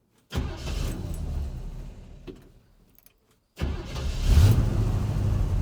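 A 1953 GMC truck engine cranks and catches, runs roughly for a couple of seconds, then dies. A short silence follows before it is started again and keeps running loudly and close by.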